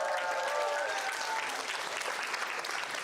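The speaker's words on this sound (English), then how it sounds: "Let's give them a round of applause." An audience at a workshop breaks into applause, a dense, even wash of many hands clapping that holds steady throughout the short burst, with a faint voice briefly heard at the start.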